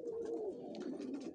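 Pigeons in a home loft coo nearby, a soft, low, rolling warble repeating in short throaty phrases with faint background noise.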